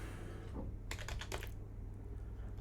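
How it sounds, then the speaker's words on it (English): A quick, close burst of keystrokes on a computer keyboard, about half a dozen crisp taps in under a second, over a steady low hum. "if I type the password correctly"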